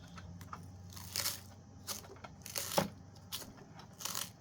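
Packing peanuts are handled inside a Bissell PowerTrak 6592 vacuum box, producing scattered soft crunches and rustles in irregular bursts, quiet and close.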